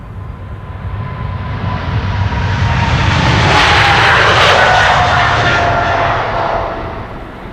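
A DHL Airbus A300 jet departs with a loud, broad engine roar that swells to a peak midway and then eases, sustained throughout with a steady whine on top.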